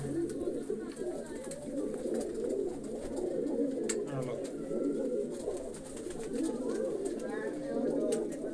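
A flock of pigeons cooing continuously and close by in new coops, their layered, throaty murmurs overlapping without pause.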